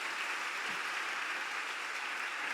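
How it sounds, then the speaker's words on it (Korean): A church congregation applauds to welcome a guest pastor at a Sunday evening youth service, a continuous, even patter of many hands heard from some distance and fairly soft. "우리 오늘 강사 목사님 나오실 때요, 큰 박수로 맞이하겠습니다."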